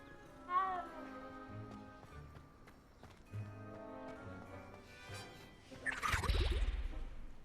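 A cat in the video game Hogwarts Legacy gives a short meow early on, with tonal game music and ambience running underneath and a brief whooshing effect near the end.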